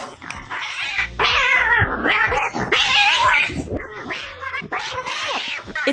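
A fierce cat yowls and growls loudly and close up, with long wavering caterwauls and snarling broken by brief pauses.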